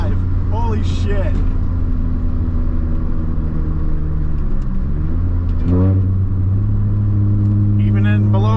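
An R53 Mini with a sprint booster installed, driven at full throttle, gives a loud, steady engine rumble with rising rev sweeps, the engine close and continuous while voices talk over it.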